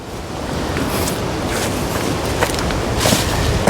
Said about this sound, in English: If the wind ever stops.